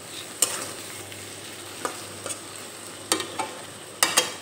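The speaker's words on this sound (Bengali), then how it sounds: "এইভাবে আমি বেশ কিছুক্ষণ সময় নিয়ে আলু মশলার সঙ্গে খুব ভালোভাবে কষিয়ে নিয়েছি" Potatoes stir-fried with spice masala in a pan for a Bengal-style bhola fish curry, steady low sizzle broken by several sharp spatula scrapes and clinks spaced through, close and alone.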